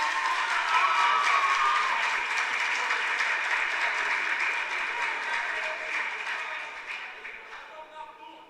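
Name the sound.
audience applauding the team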